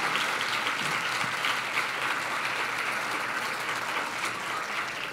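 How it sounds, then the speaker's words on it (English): A church congregation applauds a new preschool director, dense sustained clapping from a crowd filling the room, steady and fairly loud, with no speech over it. "I want, if you could stand, Christina Velos, just give her a big round of applause."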